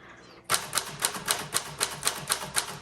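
Typing on a 1941 Corona Standard typewriter with elite type: after a short quiet start, crisp evenly paced keystrokes strike close up in a steady rhythm of about four per second.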